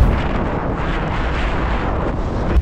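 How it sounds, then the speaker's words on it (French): Wind buffets the built-in microphones of an action camera, a loud, dense, continuous roar with heavy low rumble and no clear sounds above it. "On n'entend que du vent."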